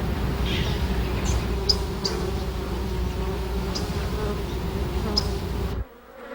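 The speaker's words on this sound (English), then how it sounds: "hive of the honeybee." Honeybees inside a hive make a dense, constant droning buzz, loud and close, with a few faint higher ticks above it, before the sound drops away abruptly near the end.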